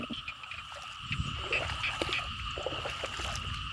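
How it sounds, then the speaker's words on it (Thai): Frogs croak steadily in a quiet rural morning setting, a dense chorus of calls at close to moderate distance filling the whole stretch with no voices. "ยินแต่เสียงกบเสียงเขียทอง"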